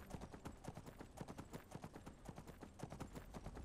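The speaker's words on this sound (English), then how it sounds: "This is so great to have a horse at least." Horse hooves clip-clop in a quick, even rhythm as a rider travels on horseback in Skyrim, the hoofbeats close and clear with no talk over them.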